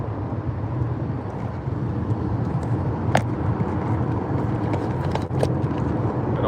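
A car driving on a road in the dark, heard from inside as a steady engine and road rumble, with a couple of brief sharp clicks or knocks and no speech.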